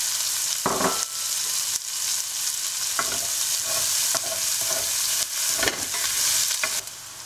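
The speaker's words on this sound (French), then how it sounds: "Et je vais faire suer l'ail et l'oignon." Garlic and onion sweating in a pan alongside pieces of chicken for a chicken curry, a steady close sizzle with a few sharper bursts of stirring throughout.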